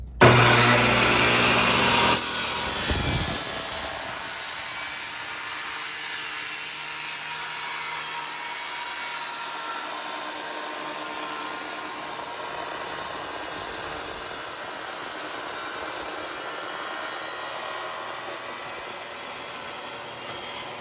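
A tile saw cuts through tile with a loud, steady high-pitched whine and grinding that runs continuously after the motor spins up, the saw being an IQ228 Cyclone 7-inch dustless bench-top dry-cut model.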